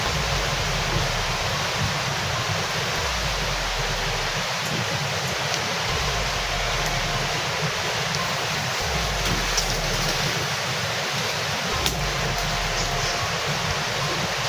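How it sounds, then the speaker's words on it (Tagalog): A strong outdoor cooking fire burns with a steady, dense roar that holds at an even level throughout, with no one speaking. "Oh, lakas ng apoy."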